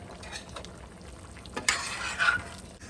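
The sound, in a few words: stirring simmering chicken stew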